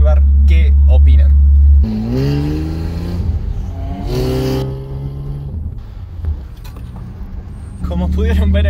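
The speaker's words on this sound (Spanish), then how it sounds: "Lo que voy a hacer en el semáforo cuando se ponga en verde es que escuche el sonido del auto" A BMW 750 V12 with exhaust cutout valves pulls away from a traffic light. A loud, steady engine note rises as the car accelerates, with people talking over it at the start and again at the end.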